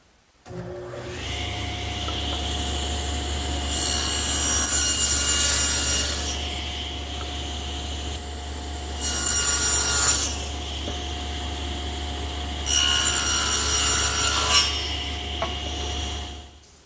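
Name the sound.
table saw with adjustable dado head cutting wood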